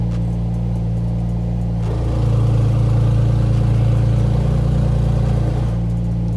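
A car engine on a cold start revs with its exhaust valves open, a loud, close, deep roar that swells into a sustained high-rev drone and then drops back to a rumbling idle.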